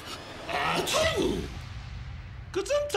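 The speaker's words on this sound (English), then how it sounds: "Achoo!" A single loud, close sneeze bursts out, and a brief voiced sound follows a moment later.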